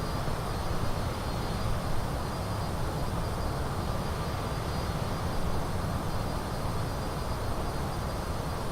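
An aircraft engine drones in Microsoft Flight Simulator 2020, a dense, steady broadband roar with a faint high whine, unchanging and continuous with no voices.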